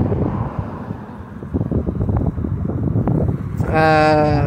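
Steady seaside morning breeze rushes and buffets outdoors with a low rumble, and a tonal whir rises near the end.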